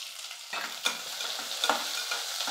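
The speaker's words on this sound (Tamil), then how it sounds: "இப்போ வெங்காயம் வந்து சேர்த்துக்கிறேன்" Onions hit a pan of hot roasted spices and cashews, starting a soft sizzle that is punctuated by two or three clear scraping stirs, fairly quiet and close.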